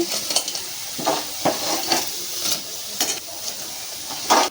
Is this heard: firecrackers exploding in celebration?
no